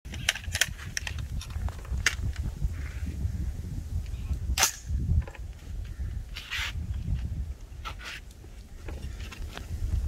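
A CQA 5.56 rifle fires at a shooting range in a video game: a scattering of sharp, separate gunshot cracks over a steady low rumble, with no talk.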